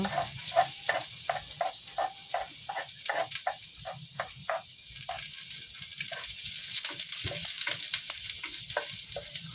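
Garlic frying in cooking oil for ginataang pako, a close, steady sizzle broken by a rhythmic run of scraping strokes as it is stirred, the stirring quickening and growing denser toward the end.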